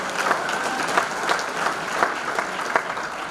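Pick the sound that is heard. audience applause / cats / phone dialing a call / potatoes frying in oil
audience applause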